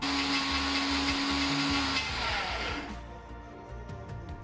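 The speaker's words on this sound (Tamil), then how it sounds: "பல்ஸில் அரைச்செடுத்தா பிறகு இனி ஸ்பீட்டை கூட்டி அரைச்செடுக்கணும்." A blender runs at high speed grinding almonds into almond butter, a loud close motor whine with a steady pitched tone that cuts out near the end, leaving a lower grinding rattle.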